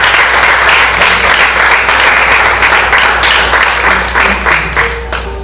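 Loud, sustained congregation applause in a church service, dense clapping from a large crowd that stays strong throughout before easing slightly at the end.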